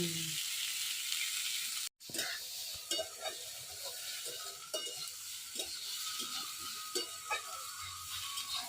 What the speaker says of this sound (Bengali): দেখুন সবজি ভাজা করছি কত সুন্দর, সেই সুন্দর ভাজা হয়েছে।